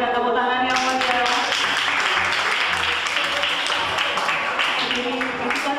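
A school audience at a junior high student council election gives a student candidate lively, sustained applause, with many hands clapping steadily for several seconds and a voice heard at the start.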